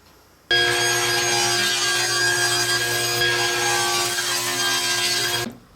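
A table saw with its blade tilted to 30 degrees trims the edge off a glued-up wooden board, a loud close steady whine that starts abruptly, holds for about five seconds, then cuts off.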